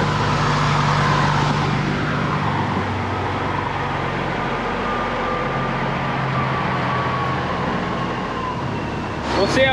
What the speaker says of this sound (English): Here comes a truck.